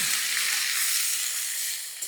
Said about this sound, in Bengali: এবার এটাকে নাড়তে হবে, অনেকক্ষণ ধরে নাড়তে হবে, কিন্তু বেশ ভাজা ভাজা মতো করতে হবে